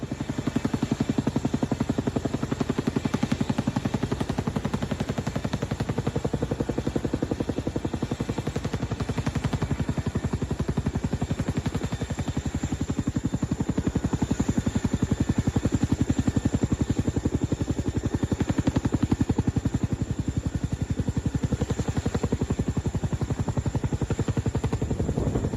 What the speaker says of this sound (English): There isn't a challenge that this helicopter can't handle.